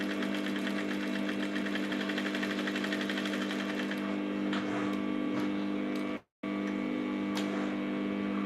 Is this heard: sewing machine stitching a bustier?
yes